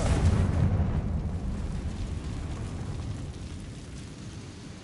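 A Confringo fire spell in Hogwarts Legacy goes off as a loud, deep explosive boom that rolls on and slowly fades over several seconds, with no voices.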